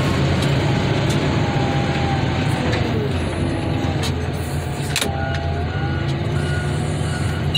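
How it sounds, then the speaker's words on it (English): A truck's reversing alarm beeps steadily as it backs into a car crusher yard, over a constant diesel engine drone, with no talking. "All right, let's get this truck in here."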